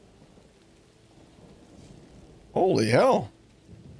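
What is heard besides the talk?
rain and thunder in video game Borderlands 4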